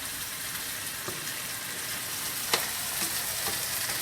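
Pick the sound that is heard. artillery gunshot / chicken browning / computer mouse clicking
chicken browning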